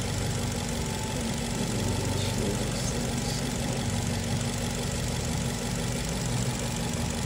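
A 2011 Nissan Versa engine with an airflow sensor fault idles, a steady even rumble heard close and alone throughout.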